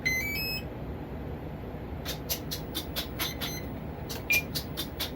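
An electronic speed controller for the motor of a Kavan Bristell B23 RC aircraft emits a run of short, clean beeps, a quick rising set at the start, then evenly spaced repeated beeps over a quiet hum.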